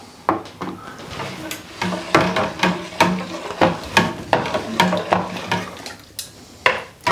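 A spoon stirs seasoning, black pepper and sea salt, into green tomato soup in a pot, giving a steady series of close knocks and scrapes against the pot in a loose rhythm, with no talking.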